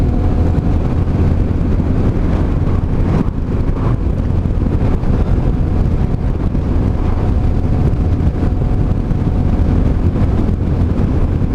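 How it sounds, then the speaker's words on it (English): Steady wind buffets the microphone outdoors on a frosty morning around 5 degrees, a continuous low rumbling roar that stays loud and even from start to finish, with no one talking. "Bit of wind there."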